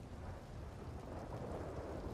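Steady heavy rain with a low rolling rumble of thunder fills the scene in the Red Dead Redemption 2 video game, a faint continuous wash with no voices.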